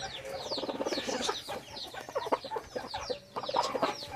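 A heavy-bodied Rasangi breed hen sitting on eggs clucks and grumbles close by in a rapid, irregular series of soft calls, with no voices.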